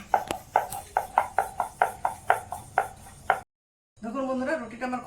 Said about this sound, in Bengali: রুটিতে কর্নফ্লাওয়ার দিয়ে বেলছি খুব পাতলা করে বেলতে হবে